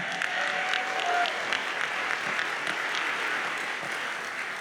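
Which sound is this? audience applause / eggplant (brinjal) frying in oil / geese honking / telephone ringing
audience applause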